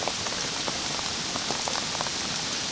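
Steady warm rainfall outside, a continuous wash of drops punctuated by distinct nearby plinks and taps on surfaces, even in level throughout and free of voices.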